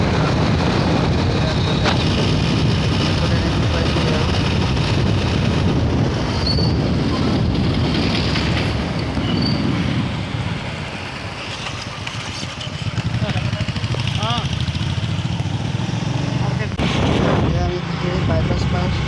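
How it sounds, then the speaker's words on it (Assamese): A motorcycle carrying two riders travels along a road in Assam, its engine rumbling steadily with wind noise, briefly easing midway, while voices talk over the ride. "এয়া লগৰটো বাইকত যাওঁ"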